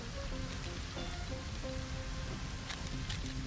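Steady rain falls in the game LEGO Fortnite, a dense, even patter that runs throughout at moderate level, with faint tonal game sounds mixed underneath.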